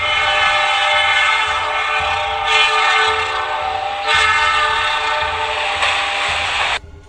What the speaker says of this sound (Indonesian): telah melaju kereta api dengan kecepatan tinggi